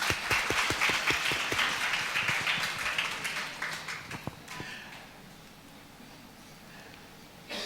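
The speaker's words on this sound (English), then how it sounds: "can we have a round of applause?" An audience at a school Founder's Day celebration applauds, with a burst of clapping that fades over several seconds to a quiet room.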